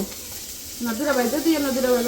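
Spices sizzle and fry in oil in a pan as masala is sautéed, a close, steady hiss that carries on while someone talks over it.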